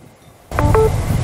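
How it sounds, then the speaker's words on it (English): A phone plugged into a power bank charged from a Goldenmate 12V 10Ah LiFePO4 lithium battery gives a short two-tone electronic chime after a quiet moment, followed by faint background hum. "as you can hear, the phone is now charging off of this system"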